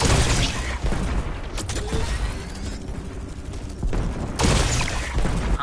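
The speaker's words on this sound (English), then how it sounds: "I think we would call it a Gatling gun" A Gatling gun in Fortnite fires in a continuous loud rattling stream, with dense broadband bursts that swell at the start and again near the end, no voices over it.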